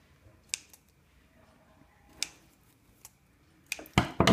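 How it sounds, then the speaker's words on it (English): Scissors snipping threads on sewn fabric: a few quiet, sparse clicks and snips, then a quick cluster of louder cuts at the end. "Trim your threads"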